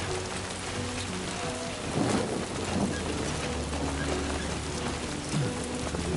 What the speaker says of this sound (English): This is Timefall. Timefall acts differently.